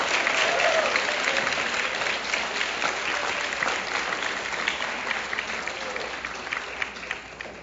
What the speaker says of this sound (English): Then clap your hands and tell him thank you.